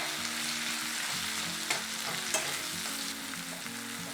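Onion-tomato masala with turmeric frying in a pan while being stirred, a constant crackling sizzle with a few sharper scrapes and clinks of the spoon against the pan, fairly quiet and close.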